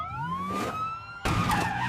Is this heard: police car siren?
yes